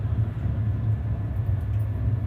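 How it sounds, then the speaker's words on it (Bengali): A passenger train pulling out of Santragachi station, heard from inside as a steady low rumble of wheels and carriage running continuously and fairly loud, with no voices. "এই কেবল ট্রেন ছাড়লো।"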